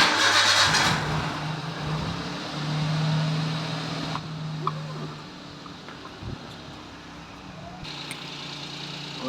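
A Maruti Alto LXI petrol car engine cranks with a short starter whir, then catches and settles into a low, steady idle hum that continues quietly to the end.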